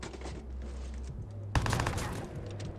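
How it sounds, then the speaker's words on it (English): An enemy fires at the player in the video game Watch_Dogs: a sudden loud burst of rapid gunfire erupts partway through and keeps crackling to the end over a steady background drone. "Oh, is he shooting us?"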